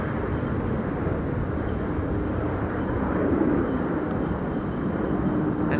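An Egypt Air Boeing Dreamliner climbs away from a runway at Amsterdam Schiphol in high storm winds, a steady broad jet roar rumbling at middle distance and swelling slightly, with wind buffeting over it.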